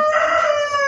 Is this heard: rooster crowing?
yes